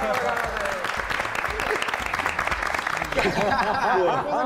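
A small group claps for Carol while voices talk and chuckle over it, the applause moderate and continuous beneath the chatter.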